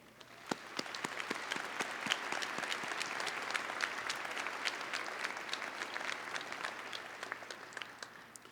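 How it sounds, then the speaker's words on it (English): Sustained applause from a commencement audience greeting deans and senior administrators on the platform at a Wayne State University winter graduation, steady dense clapping with sharper individual claps throughout, no talk. "And let's give them a round of applause"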